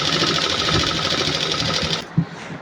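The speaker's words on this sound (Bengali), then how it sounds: "নিচের মুখ পাতটা সেলাই করে নিই" A tailor's sewing machine stitching the bottom hem strip of a garment, running in a steady loud whirring buzz for about two seconds before stopping with a soft knock.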